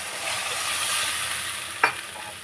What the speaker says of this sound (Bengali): এইবারে এর মধ্যে জল দেবো, জল ঝোলের জন্য জল দিলাম